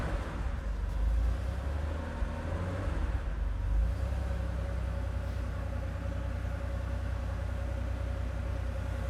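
A Porsche 911 engine runs just after being started, a steady low rumbling idle heard close and fairly even throughout, with no voices.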